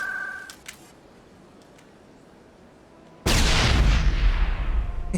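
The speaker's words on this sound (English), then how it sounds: "I just wasted a grenade." After a quiet stretch with faint clicks, a thrown grenade in the Mass Effect video game goes off in a sudden, loud, close blast whose rumble and debris noise linger to the end.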